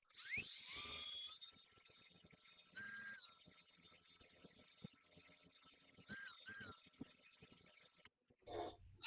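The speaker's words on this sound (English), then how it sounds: "Got the drill out." A high-pitched electric drill whines in short bursts at close range while locking tuners are installed on an LTD EC-256 electric guitar, with quieter rattling and handling noise between runs.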